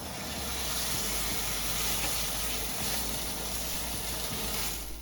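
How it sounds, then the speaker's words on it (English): Pork leg cutlets frying in hot peanut or canola oil in a pan, a loud, steady, close hiss of sizzling throughout with no pauses and no talking. "I want to hear that sizzle."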